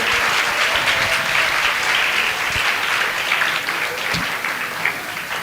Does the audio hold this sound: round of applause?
yes